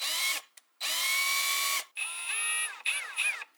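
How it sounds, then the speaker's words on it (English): A HYCHIKA brushless cordless combo drill runs in several short bursts, a close high-pitched whine that ramps up and down in speed with brief pauses between. "It's a brushless drill, which I find gives me more control of the variable speed, and it's also a bit more quiet than your traditional drill."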